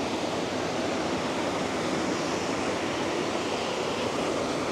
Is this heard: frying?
no